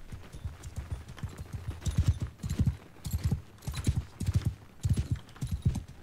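Galloping horse hooves of mounted archers in Mount & Blade II: Bannerlord, a steady rhythmic thudding of several riders moving close by, with no voices over it.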